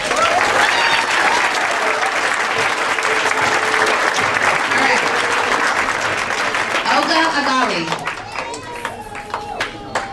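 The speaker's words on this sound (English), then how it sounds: "Why don't we give them a round of applause?" Loud, sustained applause for graduating seniors from a crowd at a school closing ceremony fills most of the stretch, then tapers into scattered claps as a voice begins speaking.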